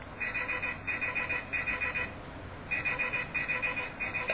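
A Magi Changer toy phone plays its alert noise, a repeating electronic ringing tone in rhythmic bursts with brief gaps, close and clear with no talking.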